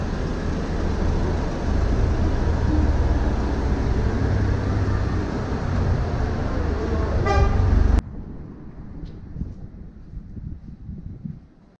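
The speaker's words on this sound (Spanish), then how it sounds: "Aún así hay tráfico." Busy street traffic in Toledo, Spain, with loud, dense engine noise and a rapid run of car horn toots near the end before the sound drops to quieter, distant traffic.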